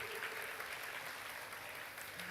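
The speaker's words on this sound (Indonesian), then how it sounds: "Tepuk tangannya meriah dong." Steady, dense applause from a crowd at a Catholic charismatic revival service, filling the space without a break and sounding broad and fairly distant.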